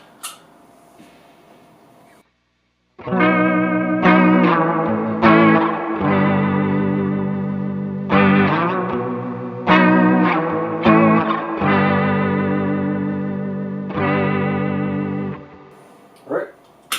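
Guitar run through a Walrus Audio Julia chorus pedal cranked to full warble, with strummed chords and notes ringing in loud, wobbling bursts separated by short gaps, ending on a brief pick noise.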